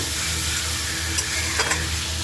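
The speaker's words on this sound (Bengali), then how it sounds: "এবার নেড়ে দেবো।" Doi chicken (yogurt chicken) being stirred in a frying pan, with a steady loud sizzle and a few brief scraping strokes of the spoon over it, and no talking.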